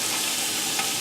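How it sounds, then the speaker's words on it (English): Tuna steak searing in a pan on a medium-high stove, a dense continuous sizzle heard close and steady throughout, alone with no talk. "now that my tuna is searing nicely, I hear it sizzling."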